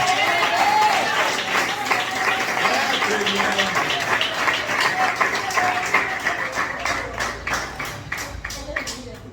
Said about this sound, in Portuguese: Quem crê, dá uma salva de palmas para Cristo.